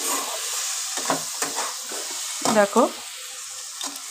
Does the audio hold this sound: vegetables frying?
yes